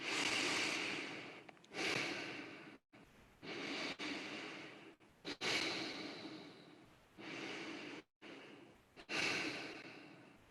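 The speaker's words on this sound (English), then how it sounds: "Keep breathing." Slow, deep breaths during a breathwork exercise, each long inhale and exhale rising and falling in steady cycles with brief pauses between, close and fairly loud with no talking.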